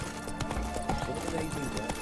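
Roach the horse gallops in The Witcher 3 video game, a quick steady clip-clop of hooves, close and continuous, under game music without talk.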